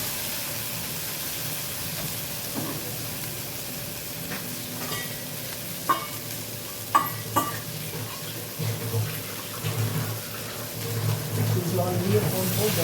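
Spices for a fish curry sauté in a pan with a soft continuous sizzle, occasional sharp clinks of a spoon stirring, and louder hissing and bubbling building near the end.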